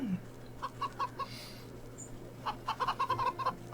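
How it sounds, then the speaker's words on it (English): Chickens clucking in a video game, Wytchwood, in short bursts, a few soft calls then a quick run of clucks near the end, over a low steady hum. "It's only 2 chickens."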